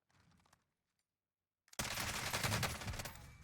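Sustained automatic fire from a FiNN LMG in the shooter Warzone, bursting in loudly after a near-silent gap and rattling on as a dense, continuous stream of shots with no talking over it.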